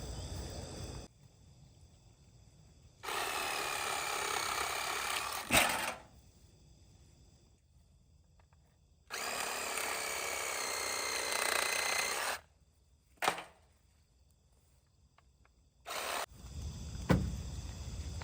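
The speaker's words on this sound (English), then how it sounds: "we're just going to use a saw" A saw cuts through a pig's spine in three long rasping bursts of strokes, each lasting a few seconds and separated by quiet gaps, loud and close with sharp knocks at the ends of some bursts.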